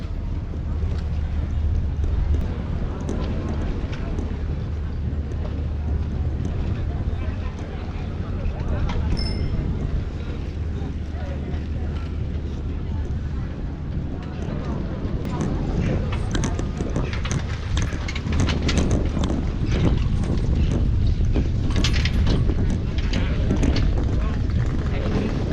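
Strong, cold wind at 8 in the evening by a tall tower with swings, a steady roaring rush that fills the whole stretch, buffeting the microphone in low rumbles and gusting harder toward the end.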